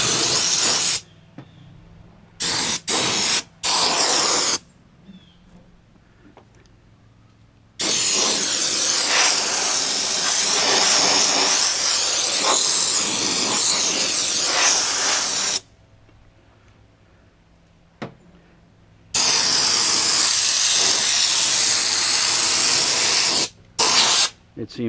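A Fluid Film aerosol can hisses onto a Ram truck's underbody in several loud, close bursts of varying length, from short puffs to a long continuous spray, separated by gaps of quiet.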